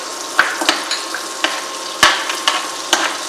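Mustard seeds sizzle steadily in melted butter in a pan, broken by irregular sharp knocks of a spoon stirring, about seven in all, close and fairly loud with no voices.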